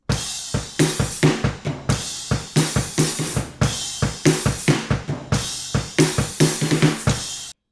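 A full drum kit plays a steady groove from a song with kick, snare and repeated crash cymbal accents, loud and close, no voices.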